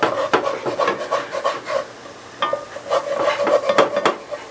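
A utensil scrapes and stirs browned flour fond off the bottom of a stew pot, giving repeated close rasping strokes of uneven rhythm with no talking.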